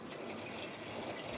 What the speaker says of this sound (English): going to add a little bit of water just to get the remnants of the tomato out of here